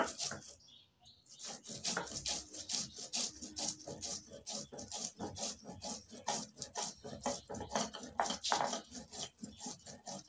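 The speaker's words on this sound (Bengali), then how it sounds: "এবার জিরে আর ধনে একসঙ্গে বেটে নিচ্ছি।" Cumin and coriander seeds being ground together on a flat grinding stone, a steady back-and-forth rasping scrape repeating in quick rhythmic strokes, close and fairly loud, with a brief pause near the start.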